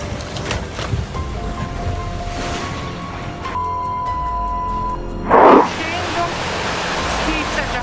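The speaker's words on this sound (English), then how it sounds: "Due to the non-stop rain, most of the city was flooded." Heavy, non-stop rain during flooding in Genoa, Italy, a continuous broad hiss of downpour with rushing water, a tonal hum in the middle and a brief louder splash or burst near the end.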